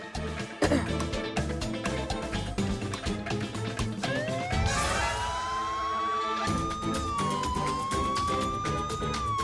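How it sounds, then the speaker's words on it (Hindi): A police siren wails over loud, busy music, rising and sweeping in long tones through the second half. "मेरा सायरन क्यों बजा रही हो?"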